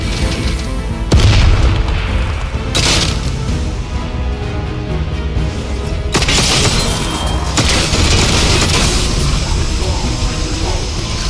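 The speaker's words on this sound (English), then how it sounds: "Might use a sticky bomb. Let's use a sticky bomb." Explosions go off in the post-apocalyptic survival game Atomfall, where a sticky bomb is used: several loud booming blasts with sharp onsets and rumbling tails over dense game noise, with possible voices faintly underneath.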